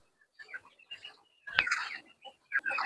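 A five-month-old Indio Gigante hen, a giant chicken breed, gives a few soft, short clucks and calls close by, with brief pauses between them and a louder burst near the middle.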